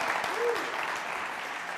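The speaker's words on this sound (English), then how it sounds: "Will there be applause and cheers and roars?" Audience applause and cheering at a TEDx talk in New York, a steady broadband wash of many hands clapping at moderate level, with a brief whoop rising above it.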